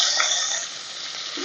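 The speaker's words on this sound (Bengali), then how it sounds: "তেলের মধ্যে দিয়ে দিচ্ছি কাঁচা লঙ্কা আর টমেটো।" Green chilies and tomatoes sizzling in hot oil for a Bengali snakehead fish curry, a loud continuous hiss close up with a faint stir near the end.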